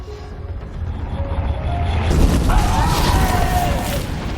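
A molotov bomb is thrown and bursts into flame in a film scene, a loud rumbling whoosh swelling about halfway through over a dense low background of cinematic noise, with no speech.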